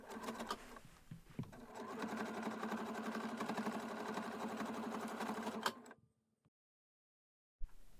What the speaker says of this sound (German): dann wird an allen 4 Seiten diese kurze Naht hier genäht